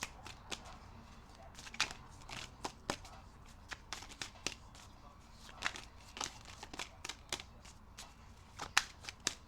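Tarot cards are shuffled in sharp, irregular riffles and slaps, with the bursts close and crisp and spaced unevenly throughout. Some quiet voice may sit underneath.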